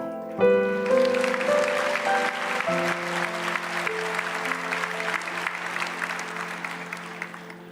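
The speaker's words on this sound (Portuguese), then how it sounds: "Vocês aplaudiram." Audience applause, a broad wash of clapping that starts abruptly and carries on steadily, with sustained musical tones from an instrument underneath.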